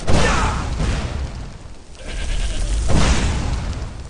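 Goats bleat in the Skyrim video game after the Wabbajack staff transforms creatures, with loud, rough cries over a noisy, rumbling game soundscape for about four seconds.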